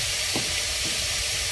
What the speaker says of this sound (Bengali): এবার শুধু ভাজা ভাজা হবে।